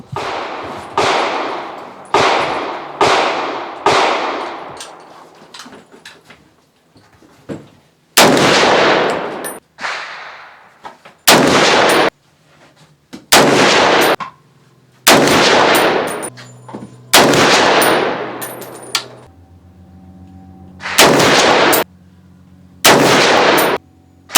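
A S&W M&P 10 sport rifle fires 175 grain match ammunition at an outdoor range: about a dozen loud, sharp gunshots spaced a second or two apart, each ringing out briefly, with a faint low hum between some shots.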